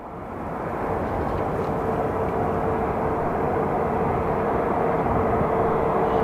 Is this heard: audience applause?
no